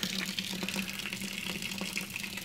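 Water drains steadily from a brewing vessel into a mash tun on a homebrew Belgian pale beer day, a continuous close rushing gush with no pauses and no speech.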